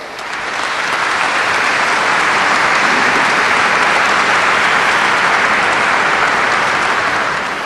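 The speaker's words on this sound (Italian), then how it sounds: "vi prego di ringraziare con un applauso" Loud, sustained audience applause in a concert setting for a sacred cantata oratorio honouring Blessed Bartolo Longo, building quickly and then holding as a dense, even wash of clapping.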